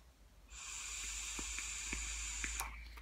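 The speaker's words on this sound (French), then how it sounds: "quand j'expulse la vapeur" A long, steady breath of e-cigarette vapour with a lemon and citronella flavoured liquid, Lizzy Rascal by Halcyon Haze, is exhaled as a soft, airy hiss lasting about two seconds, close to the microphone, with a few faint clicks.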